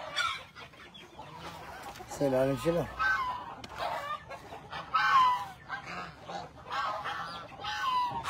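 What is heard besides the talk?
chickens clucking on a farm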